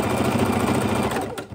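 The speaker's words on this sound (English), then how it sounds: "And we're just sewing that piece down" A sewing machine runs steadily, stitching a quilt piece down for a fidget quilt. The dense mechanical whirr is close and loud, then slows and stops near the end.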